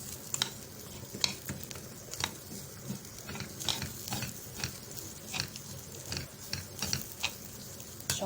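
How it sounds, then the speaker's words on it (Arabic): Rice being stir-fried with onion, salt, chili and cumin in a pot for Alexandrian koshari, with a steady soft sizzle and repeated scraping stirs of a spoon against the pot, close up, no talking. "شوحت الرز كده مع البصل والتتبيله اللي حطيتها."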